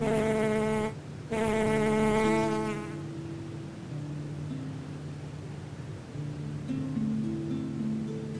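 Bumblebees forage for pollen on coastal dune flowers among blue thistle, making a close, loud buzz for a few seconds that then fades into a softer, wavering hum with shifting pitch.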